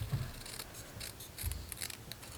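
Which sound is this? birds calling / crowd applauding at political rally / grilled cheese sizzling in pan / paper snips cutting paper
paper snips cutting paper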